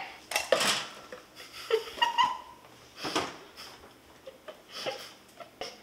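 Metal baking pan and kitchenware clattering during home baking, several short sharp clanks and scrapes at close range in a busy kitchen, with quiet movement between the knocks.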